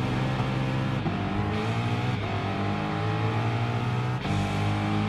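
The Screaming Gophers Mustang rally car in Gran Turismo Sport drones at high revs with a steady, loud engine roar, with brief dips at gear shifts.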